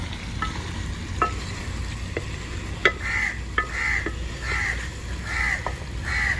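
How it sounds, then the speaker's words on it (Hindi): Red chili powder is stirred into village-style chicken karahi in a pan, with a steady sizzle, scattered spoon clinks and scrapes, and crows cawing repeatedly in the background. "इसको थोड़ा सा 1-2 मिनट के लिए मिक्स करूंगा।"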